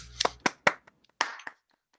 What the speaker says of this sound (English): let's give Risa Ikeda a big round of applause